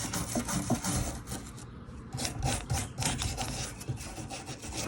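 A fuel tank part from a Corvette C4 ZR-1 being restored is scrubbed with a WD-40 type lubricant, giving a close, rhythmic rasping and rubbing of brush strokes, heard alone.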